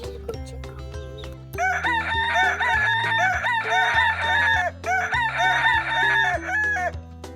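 Several roosters on a homestead crow in repeated, drawn-out calls, overlapping and close by, with some clucking between the crows.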